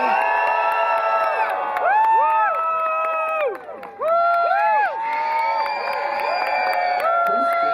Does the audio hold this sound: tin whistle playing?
no